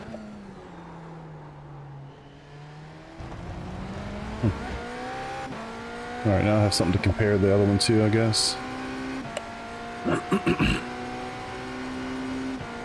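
GTP race car engine in the iRacing simulator, revving up and down in sharp bursts with a few loud rises, under someone talking.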